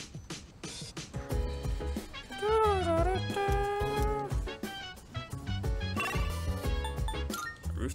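A cat in Persona 3 Reload meows a few times with a rising and falling tone, layered over dense game music with chimes and a bass line.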